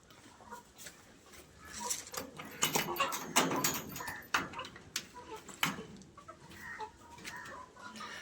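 Several chickens cluck and scratch around in an enclosed space, with scattered calls and shuffling noises at a moderate distance.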